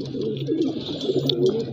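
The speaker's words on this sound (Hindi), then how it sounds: "ये देखिए भाई ये कबूतर बैठा हुआ है" A pigeon perched on a rooftop coos close by, a soft continuous throaty rolling call repeating over a low steady background.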